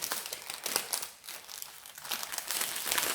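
Crinkly plastic bags of Diamond Art Club art diamonds are handled and unwrapped close up, giving continuous rustling and crackling with small bursts, fairly loud throughout.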